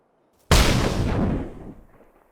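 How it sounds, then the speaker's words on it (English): A flashbang grenade thrown high bursts in the survival shooter Miscreated: one sudden loud blast that booms and rings, then fades over about a second and a half, alone without voices. "This is a flashbang that I threw as high as possible."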